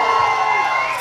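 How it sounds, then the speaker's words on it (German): Brief, steady burst of crowd cheering and clapping for a contestant at a beer-stein holding contest, loud and dense for its one second. "Applaus für die Kathi hier mal."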